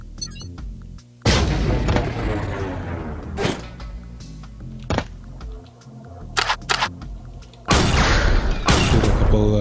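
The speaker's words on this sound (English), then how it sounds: "Shoot a couple shots just to make sure which one is which." Loud sniper rifle shots in a first-person shooter, several heavy booming blasts with ringing tails, spaced a second or two apart and ending in a sustained roar.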